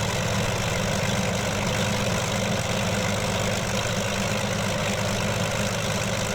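A P-40B Tomahawk engine idles at 1000 RPM in Microsoft Flight Simulator, a steady loud low rumbling drone with no change across its length.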